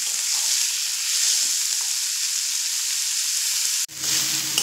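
Onions frying in a pan, a steady close hiss of sizzling oil that holds even throughout, briefly cut by a short break near the end before the sizzle resumes alongside a light clatter.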